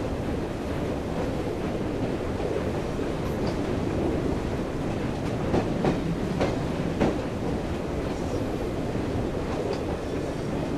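Steam train running in Assassin's Creed Syndicate, a steady rumbling rush of wheels and steam that holds evenly throughout, with faint rhythmic clicks and no voices.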